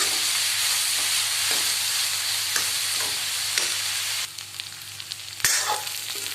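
Onions and green chillies frying in a pan give a steady, close sizzle with periodic scraping stirs, quieting briefly before a sharp clatter; nobody speaks.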